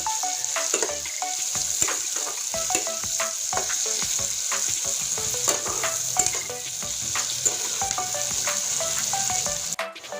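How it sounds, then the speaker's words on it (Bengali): Chopped onion frying in a pan until browned, with garlic already fried, a steady loud sizzle broken by spatula stirring and scraping throughout, no talk. "এবার পেঁয়াজটা লাল করে ভেজে নেব"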